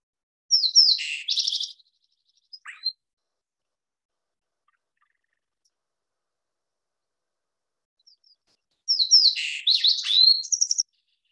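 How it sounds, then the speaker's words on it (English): Two bursts of bright, rapid black-throated sparrow song, one at the start and one at the end, separated by quiet, with a few faint chips in between. "if you are in their range down, especially in Western Colorado or locally in Southeast, this is a song you might hear."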